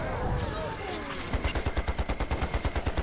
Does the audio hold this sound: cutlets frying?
no